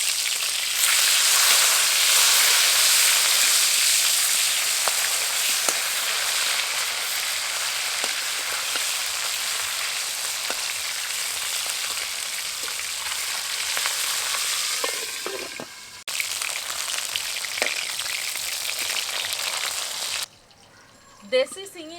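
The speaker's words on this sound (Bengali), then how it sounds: "আমি প্রথমে তেলের মধ্যে মাছগুলো দিয়েই ঢাকা দিয়ে দেবো।" Magur fish frying in oil in a covered pan, a loud continuous sizzle and crackle, briefly interrupted near the end as the lid is lifted, with a few clinks.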